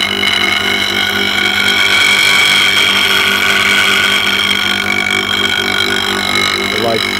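A bowl gouge is finish-sharpened on a grinder, giving a steady loud grinding whine with a constant motor hum underneath that runs unbroken throughout.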